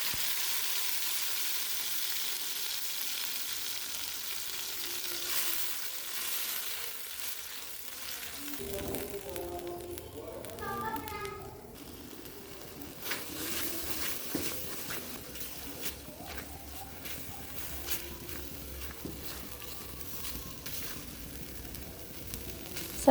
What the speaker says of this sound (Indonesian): Langkah selanjutnya kita tumis bumbu halus hingga matang dan tanak.